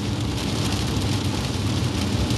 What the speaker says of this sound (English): it doesn't even look like it's raining that hard